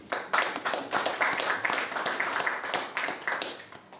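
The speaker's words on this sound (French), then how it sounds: "applaudissons pour le leader Sow." A crowd claps in steady, dense applause, close and moderately loud, continuing throughout without any speech over it.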